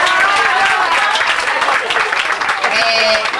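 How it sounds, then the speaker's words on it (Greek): Applause at a 1990 class reunion of a technical high school in Almyros, a sustained burst of many hands clapping close by, with voices talking over it. "Ένα χειροκρότημα λοιπόν."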